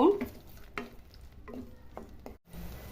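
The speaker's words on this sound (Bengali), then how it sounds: "এবার ভালোভাবে মশলাটা কষিয়ে নিব" Masala paste stirred and frying in a pan with a splash of water, for Hyderabadi chicken masala; soft scraping strokes and a low sizzle recur in short bursts, fairly quiet and close, with no talking.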